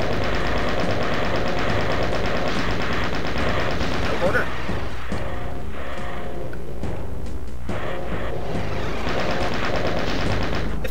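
Gunfire from the shooter game Doom: loud, rapid, continuous bursts of machine-gun and shotgun-style shots pile densely over each other for the whole stretch, close and unbroken.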